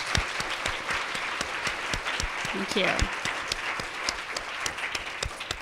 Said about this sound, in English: join me in a round of applause for our panelists